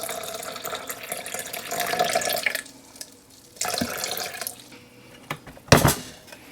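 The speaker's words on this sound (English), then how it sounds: "Now I'm going to add 1 cup of water to it." Water poured from a cup into soaked Irish sea moss in a blender jar, a splashing, trickling pour in a few bursts with a brief louder splash near the end, close and alone.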